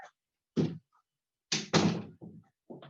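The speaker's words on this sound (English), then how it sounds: "Let me close the door just a second here." A door is handled and shut indoors with a series of close, hollow thumps and knocks, a couple of louder bangs among quieter bumps separated by silence.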